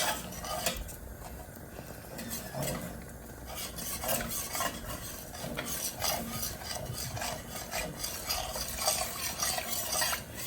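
Spoon scraping the bottom of a pan of Salisbury steak gravy, continuous rough scraping and stirring strokes against the metal with a faint sizzle, close and without talk.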